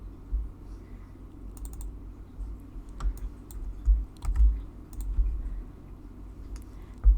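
Computer keyboard shortcut keys and mouse clicks during a Photopea editing session, heard as sparse, light, irregular taps and clicks over a low steady room hum, with no talking.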